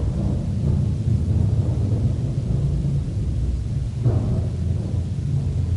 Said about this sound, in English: it certainly sounded very much like thunder